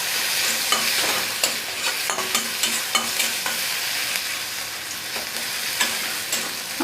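Chopped onion fries with whole cumin and dried red chili in a pan, a steady close sizzle punctuated by repeated scraping stirs of a spoon, with no voices.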